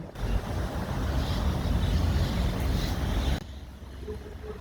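A steady mechanical hum and whir of a Premier inverter air conditioner's motors runs loud and close for about three seconds, then drops abruptly to a quieter, lower drone.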